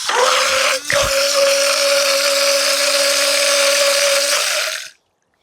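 A Blendjet 2 portable blender runs without its main top for about five seconds, a loud steady whirring motor hum with a constant pitch, a brief dip near the start, then it cuts off abruptly into silence. No talking.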